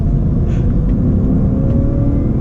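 A BMW 323i E36 accelerates on the Chambley race track, a loud, steady engine roar and rumble heard from close by, with no voices.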